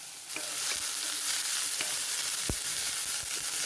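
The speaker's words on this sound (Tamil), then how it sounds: "இதை நல்லா வதக்கி எடுத்துக்கிடுவேன்" Garlic, ginger, chopped onion and curry leaves sauté in hot oil, a steady close sizzle with occasional scraping stirs of a spoon against the pan.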